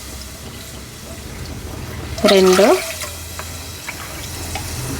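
Water pours briefly into a bowl of sorghum flour while making dough, a short, close splash lasting under a second amid soft kitchen room tone, with a voice speaking.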